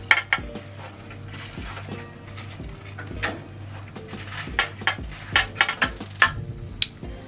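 Pieces of fried seitan dropped into a bowl, with a run of sharp dish and utensil clinks and knocks that grow busier toward the end, close and alone without talk.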